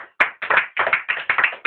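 A church congregation applauds at a French-language worship service, a close, moderately loud run of sharp, rhythmic claps in quick bursts with brief gaps, with no talk over it.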